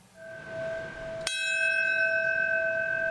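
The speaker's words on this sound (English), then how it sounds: "At 10:28, the toll of the bell was for the moment the North Tower fell." A single memorial bell struck once during a 9/11 anniversary ceremony, a sharp strike followed by a long, clear ringing tone with bright overtones that sustains and slowly fades, alone with no talk.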